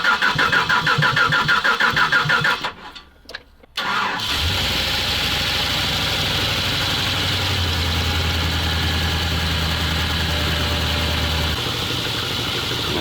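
A ZIL truck engine cranks with a rhythmic starter whirr after the ignition is switched on, falters briefly, then catches and settles into a loud, steady idle close by.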